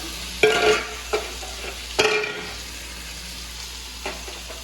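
Mutton is added to a hot frying pan and stirred, giving a loud initial sizzle with clattering stirring strokes, a second scrape and sizzle burst, then a steady frying hiss with occasional softer stirs.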